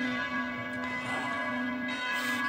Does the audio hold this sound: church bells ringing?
yes